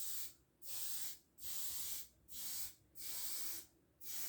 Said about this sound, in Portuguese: vou pegar a lata de spray vermelha